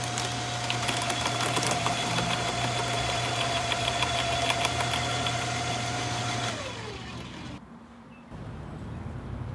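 A garden mulcher motor runs steadily with a droning, knocking hum while shredding plant material for a compost heap, then its pitch drops and it briefly quiets near the end, with no voices.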